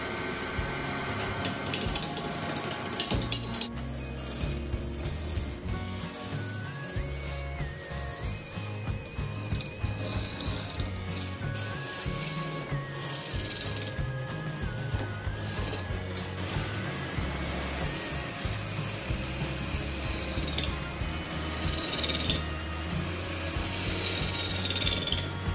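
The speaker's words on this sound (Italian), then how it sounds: "inizio a sgrossarlo utilizzando la sgorbia" A gouge roughs down a wooden workpiece spinning on a wood lathe for a skittle ball, giving a continuous loud scraping chatter with rapid rhythmic knocking from the uneven wood, over the steady hum of the machine.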